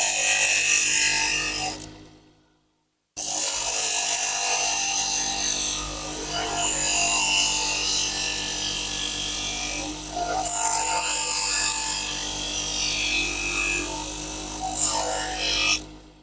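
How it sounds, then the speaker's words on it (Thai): Steady loud whirring of a motorized polisher buffing the curved lines of a monk's alms bowl, continuous apart from one brief stop, with no talk. "วิธีขัดก็ขัดไปตามเส้นโค้งนั่นแหละ"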